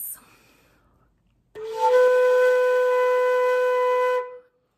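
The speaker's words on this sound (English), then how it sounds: "if I bring the back of my tongue up to where it's touching my top molars, and I keep the tip of my tongue down," A flute multiphonic played with the back of the tongue raised against the upper molars and the tip kept down. It starts abruptly after a quiet pause and holds as a sustained multi-tone chord with bright upper partials for under three seconds, close and solo.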